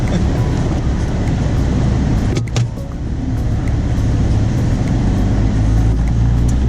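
A truck with a freshly overhauled 68RFE transmission driving on the road, heard from inside as a loud, steady low engine and road rumble with one short clunk partway through.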